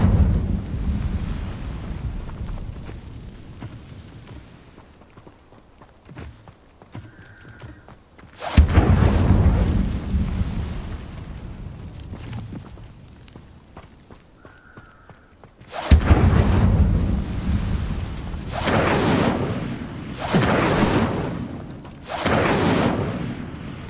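Incendio fire spells blast in Hogwarts Legacy: several loud, sudden bursts of broadband roar with thudding lows, spaced apart, the later ones coming in quick succession, amid quieter rumbling ambience.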